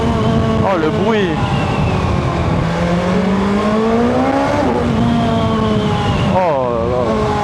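A BMW S1000 XR motorcycle engine revs up and down while riding, rising and falling pitch sweeps, loud and close, with a voice speaking over it.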